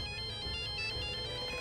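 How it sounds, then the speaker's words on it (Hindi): A mobile phone ringtone plays loud and steady on its own, a bright repeating electronic melody with no voices over it. "अभी फोन मत उठाना"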